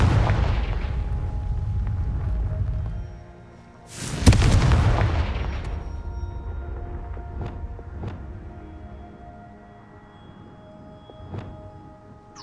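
Fire spell explosions in the Hogwarts Legacy video game: one loud bursting boom followed by a rumbling tail, with smaller sharp cracks and pops trailing off over a steady game background.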